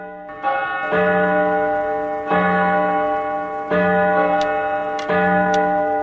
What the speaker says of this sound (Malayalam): ഒരേ സമയത്ത് പല ക്ലോക്കുകൾ ഇടവിട്ട് മണിയടിക്കുന്നത്